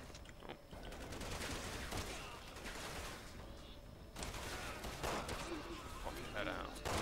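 Gunfire in Resident Evil 6 co-op play: repeated shots and bursts mixed into a steady wash of game noise, with players talking throughout.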